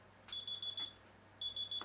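A phone timer alarm goes off with two bursts of four sharp electronic beeps each, separated by a short pause, fairly close and clear against a quiet indoor background.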